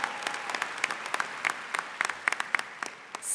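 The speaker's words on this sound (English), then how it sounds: "We'll just applaud all of them." Scattered, moderately distant clapping from a commencement audience at Michigan Ross, sparse individual claps popping irregularly rather than a full ovation, ending in a brief rising swell.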